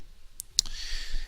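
Mouse clicks selecting and loading an AngioCT study in Slicer on a computer: a few sharp, close clicks over a faint hiss.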